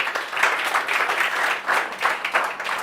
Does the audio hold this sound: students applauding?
yes